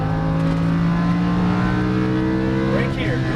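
A Lamborghini Huracan LP610-4 accelerates hard on a racetrack, its engine drone steady and loud from inside the car, pitch climbing near the end.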